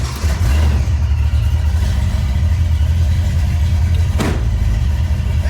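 Car engine, running hot and low on coolant, idles and is revved in steady rising and falling pulls, loud and close throughout, with no talking.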